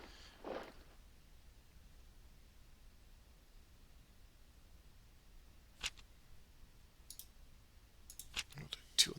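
Dice rattle and clatter during a Commands & Colors: Ancients board game, a brief burst near the start, another sharp click mid-way, then a cluster of quick clicks and knocks at the end, all fairly faint over a quiet background.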